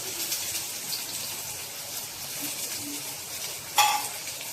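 Chopped onions frying in a pan for a Marathi-style bitter gourd curry, a soft steady sizzle at low level with a faint clink of a spoon near the end.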